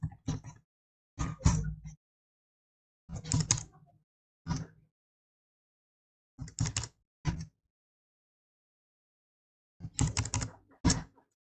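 Logitech computer keyboard being typed on in short bursts of quick clacking keystrokes separated by silent pauses, close and moderately loud, with no voice over it.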